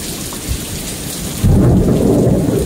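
Heavy thunderstorm in Lufkin, Texas, with dense rain drumming on a thinly insulated roof; a loud rumble of thunder rolls in halfway through and keeps building over the steady downpour.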